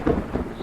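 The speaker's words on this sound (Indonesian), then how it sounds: "Suara petir terdengar silih berganti." Thunder rumbles over heavy rain in a spooky storytelling scene, a short, loud, low roll of two deep swells with no voices.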